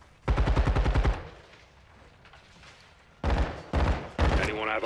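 In Call of Duty Modern Warfare 2, two loud bursts of rapid machine-gun fire frame a quieter gap. The first burst runs about a second, and the later ones come in short chopped strings with voices at the end.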